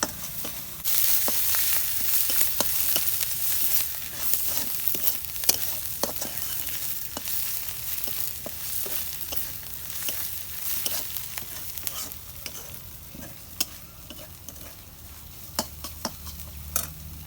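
Pre-fried rice stirred in hot oil while cooking beef biryani, a soft steady sizzle broken by sharp scraping clicks of the spoon against the pot, close and alone.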